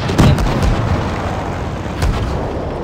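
Tank cannon fire in World of Tanks aimed at a Sherman: heavy booming shots over a constant rumbling battle din, with a strong blast near the start and another about two seconds later.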